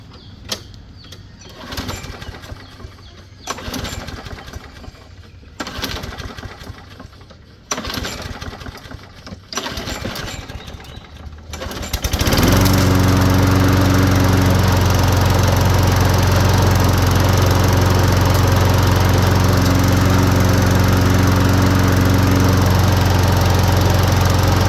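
A Craftsman lawn mower engine is yanked with the pull cord several times in rhythmic bursts, then fires up and settles into a loud, steady running roar that lasts the rest of the clip.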